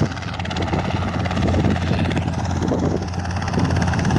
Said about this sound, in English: Cessna 150 on the touch and go runway has come into land.